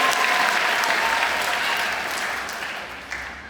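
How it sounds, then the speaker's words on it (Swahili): A church congregation breaks into loud, dense applause that fills the room, then tapers off slightly toward the end. "Tumpigie Mungu makofi."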